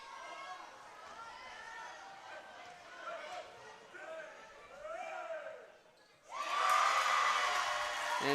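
A basketball crowd at a championship game roars into loud cheering during a free throw, a sudden swell lasting about two seconds after a stretch of commentators talking over quieter gym murmur.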